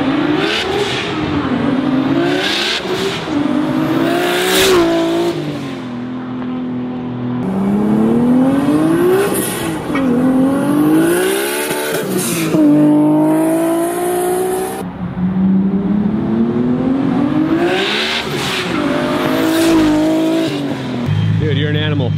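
A loud, modified 1027-horsepower Lexus IS300 engine revs hard several times, each roar climbing in pitch and then dropping back, with brief voices in between.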